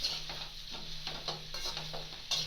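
Carrots and radish cooking in a pan over a low flame for pickle, a soft, steady sizzle with faint scraping stir strokes at intervals, quiet and close, with no voices.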